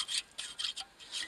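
Chainsaw file rasping against a rusty brake line nut on a Plymouth Acclaim, several short scraping strokes in quick rhythm, close and fairly quiet.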